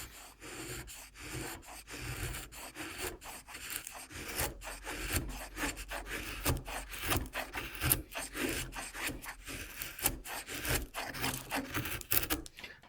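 A sharp Ganzo Firebird folding knife shaves and whittles a piece of wood, making steady rough rasping strokes in quick repetition, close up and continuous throughout, with no voices.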